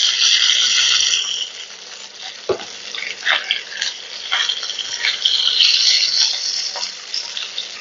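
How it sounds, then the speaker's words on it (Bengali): Cauliflower pieces sizzle and hiss steadily as they fry in hot oil in a home kitchen, with occasional stirring scrapes and clinks. "ফুলকপিগুলোকে একটু লাল করে ভাজতে হবে।"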